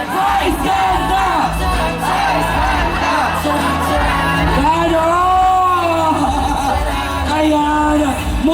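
A large street crowd at the 50th Metro Manila Film Fest parade in Manila shouts and cheers in unison. The roar stays loud, dense and continuous throughout, with amplified voices blending into the yelling.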